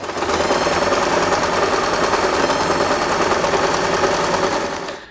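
Sewing machine stitching a straight seam through fabric, part of a two-tone hairband, running steadily and loud for about five seconds before stopping abruptly.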